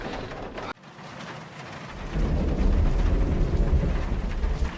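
A mountain storm roars outside a home at night, with steady rain hiss and a low rumble of thunder that swells and stays loud after a brief sudden drop.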